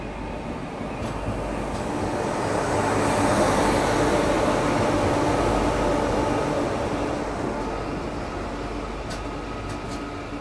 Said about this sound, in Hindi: यहाँ कोई तो लोकल ट्रेन आई और अपने साथ पूरा रश लेकर के यहाँ पे आई